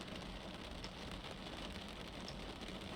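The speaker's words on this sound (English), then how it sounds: "as you can maybe hear and maybe see on the windshield, it is already sprinkling rain" Light rain patters on the windshield of a CJ4 business jet sitting in a flight simulator game, a soft, steady hiss of droplets with a faint low rumble beneath, continuous and even.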